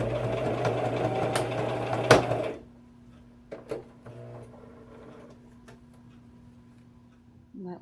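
A sewing machine runs briefly while stitching a fabric face mask, a close mechanical whir that stops after a couple of seconds, followed by quiet handling noises and faint ticks.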